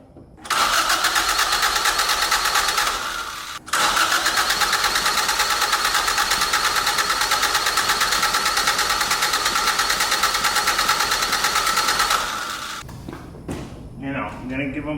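A car engine being primed and started cranks up and then runs at a steady, loud, buzzing rev for several seconds, pauses briefly, roars on, and then winds down into quieter clatter.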